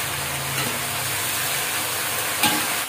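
Shallots frying in a pan while being stirred, a dense steady sizzle with a spatula scrape near the end, loud and close with no talk.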